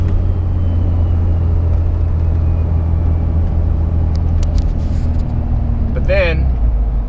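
A Cummins diesel truck with a 48RE automatic transmission rumbles steadily from inside the cab as it accelerates, with a continuous low drone and a brief voice near the end.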